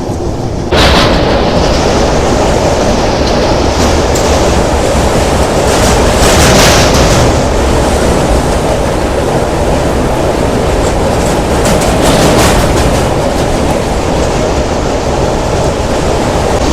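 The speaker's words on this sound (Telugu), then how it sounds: "సో ఇప్పుడు మన ట్రైన్ వచ్చేసి రోడ్కమ్ రైల్వే బ్రిడ్జ్కి అయితే ఎంటర్ అయింది" The Godavari Superfast Express train roars steadily across a road-cum-rail bridge, a loud continuous rumble with rhythmic clatter from the wheels.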